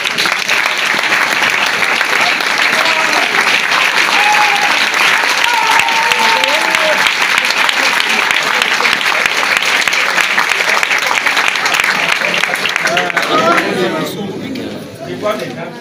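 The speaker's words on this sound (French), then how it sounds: "je vais vous prier humblement qu'on s'acclame très fort" A large audience at a live gathering bursts into loud, sustained applause, dense clapping mixed with some cheering voices, continuing strongly for many seconds before tapering off near the end.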